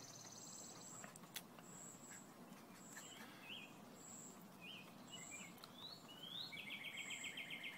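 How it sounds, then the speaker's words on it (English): Small birds chirp and trill outside a window: repeated high tweets and short warbled phrases, faint and fairly distant. A busier run of rapid chirps comes near the end over a soft background hiss. "these chirpy birds outside my window"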